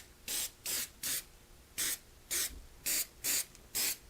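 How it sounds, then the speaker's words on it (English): Rapid short bursts of aerosol spray, about nine even hissing puffs in a steady rhythm, as a conformal or dielectric grease coating is sprayed on in coats, close and clear with no talk. "I would just spray it on like coats."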